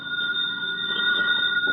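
A telephone rings in a radio drama with a steady, continuous electric bell tone, loud and close, with no talk over it.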